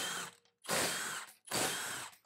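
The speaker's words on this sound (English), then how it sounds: "Now we can run the rest of our bolts out." A power tool runs out wheel hub bolts during a wheel spacer install, in three loud, close whirring bursts with brief pauses between.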